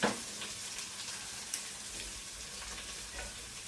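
Three dried red chillies frying in hot oil for a chau chau and lentil curry give a soft, steady sizzle with a few faint crackles and pops, fairly quiet and with no talk.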